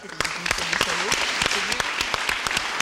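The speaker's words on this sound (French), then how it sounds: "Ça, on peut applaudir, je crois." A television studio audience claps in a quick, rhythmic burst while people talk over the applause.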